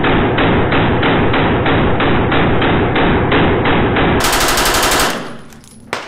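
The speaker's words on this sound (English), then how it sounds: "To fire the Uzi, aim, flip the safety off, and squeeze the trigger." An Uzi 9mm submachine gun fires a rapid, steady burst of full-auto shots for about five seconds at close range. The shots are loud and evenly spaced, and a short mechanical clatter follows once the firing stops.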